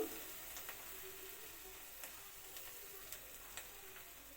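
Ginger paste and spices frying in oil in a wok, a faint steady sizzle with a few soft clicks of stirring, heard alone.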